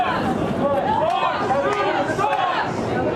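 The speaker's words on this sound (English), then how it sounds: "a loud and very boisterous crowd. You'll start hearing them start up here." A loud, boisterous rally crowd shouts and chants in a continuous roar of voices, with rhythmic chant phrases rising out of the din.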